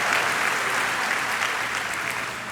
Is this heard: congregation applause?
yes